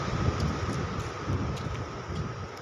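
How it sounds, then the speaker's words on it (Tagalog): Strong wind at a beach at night roars steadily against the microphone, a continuous low rumbling buffet with no voices. "Lakas ng hangin sa beach."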